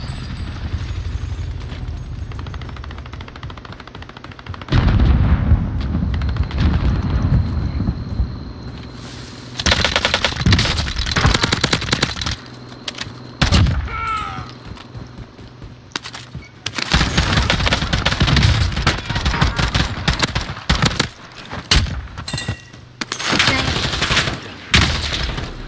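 Rapid bursts of Uzi submachine gun fire in a video game, loud and close, with repeated sustained volleys and booming explosions mixed in over battle noise.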